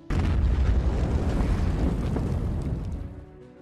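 A deep, rumbling landmine explosion bursts out suddenly and rolls on loudly for about three seconds before fading away.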